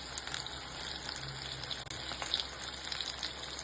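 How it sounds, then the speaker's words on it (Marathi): Coated onion rings deep frying in hot oil give a steady, dense crackling sizzle that runs evenly throughout, close and moderately loud with no voices. "ऑनियन रिंग्स आता तळून घेऊयात आपण"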